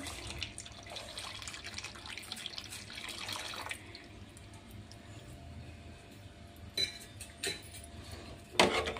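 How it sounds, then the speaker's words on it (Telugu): One litre of milk poured into a pot makes a steady, soft liquid splash and trickle for several seconds, followed by a few clinks and knocks of utensils, fairly quiet and close. "1 లీటర్ పాలు వేస్తున్నామండి."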